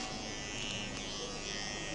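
An electric shaver used by a barber at a Wahl barber training event in Kenya gives a steady, continuous buzz, close and fairly loud, running unbroken throughout without talk.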